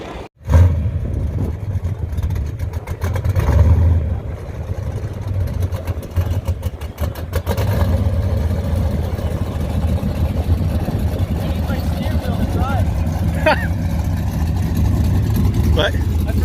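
1969 Chevrolet Nova with a 383 V8 cranking, catching and rumbling loudly close by, a deep lopey idle with blips of revving that holds steady, with talk mixed in over the engine.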